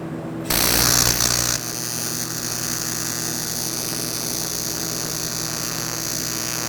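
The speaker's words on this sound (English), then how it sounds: "we're gonna sand this radius right here just like we did on the one we did before" A power sander works the curved radius of an impeller blade, rising into a loud, harsh grinding burst for about a second before settling into a steady mechanical whir that holds to the end.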